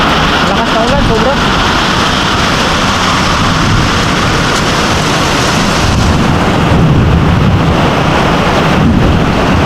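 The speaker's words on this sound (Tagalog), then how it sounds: "Lakas na ulan, sobra." Loud, dense rush of heavy rain pouring down steadily, with gusty wind noise buffeting the microphone and a faint voice underneath.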